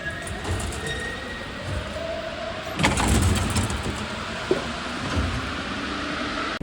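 A Paris metro train running, steady rolling rumble of wheels on rails with a sharp squealing surge partway through, moderately loud and continuous, no talk.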